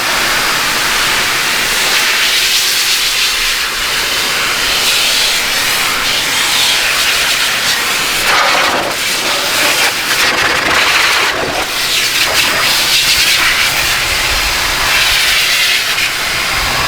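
A heated blower dries water-based tire shine on car tires, giving a loud, steady, close roaring hiss of rushing air that holds throughout with slight surges.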